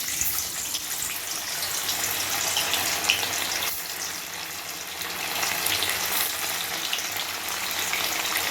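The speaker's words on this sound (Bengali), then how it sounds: "এবার আমি এর মধ্যে পনিরগুলোকে অল্প অল্প করে ছাড়বো আর লাল লাল করে ভেজে তুলে নেব" Paneer pieces frying in hot oil for a potato paneer curry, a continuous bubbling sizzle at moderate level with a slight shift midway as more pieces go in, no voices.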